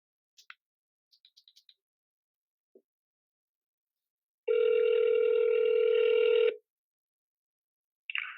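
On an outgoing business call, a few faint clicks and tapping sounds come first, then a steady telephone ringback tone sounds once for about two seconds, close and clear, with no voices.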